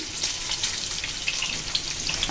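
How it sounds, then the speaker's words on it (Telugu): Cumin seeds crackle and sizzle in hot oil for a Karimnagar-style mixed greens curry, a steady close frying hiss dotted with tiny pops throughout. "ఇప్పుడు జీలకర్ర వేసింది"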